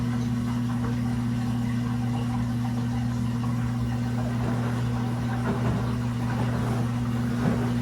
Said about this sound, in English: now we're going through the draining process. And we're going into the final spin